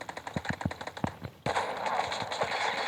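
Rapid automatic gunfire from Call of Duty Mobile, a mobile shooter game, in quick bursts of sharp shots, followed by a dense, steady wash of loud game noise.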